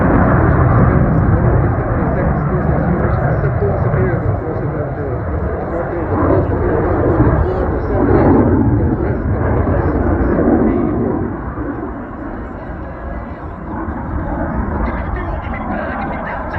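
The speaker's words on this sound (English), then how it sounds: "The next pass will demonstrate the agility of the Hornet in changing direction." A Hornet fighter jet making a pass at an air show, a loud sustained roar of jet engine noise lasting throughout, with an announcer talking over it.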